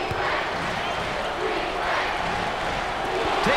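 Crowd noise fills a basketball arena during a 2024 NCAA Tournament Elite Eight game between Dayton and North Carolina, a steady, dense roar throughout with no breaks.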